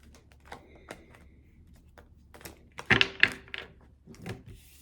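Tarot cards spilling and slapping down while being shuffled, a scatter of soft taps and papery flicks that build into a louder burst of cards hitting a surface, followed by a few scattered clicks.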